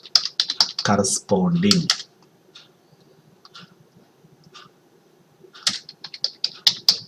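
Someone types code on a computer keyboard in quick bursts of close, crisp key clicks, with quiet pauses in between and someone talking around them.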